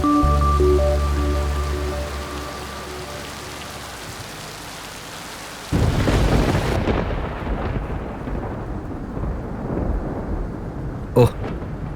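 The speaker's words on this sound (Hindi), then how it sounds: "ये बारिश भी बहुत हो रही है, कोई कसर नहीं छोड़ रही।" Heavy rain pours steadily on a surface through the second half, with a sharp thunder crack near the end; the opening seconds carry tonal background music that fades out before the downpour swells.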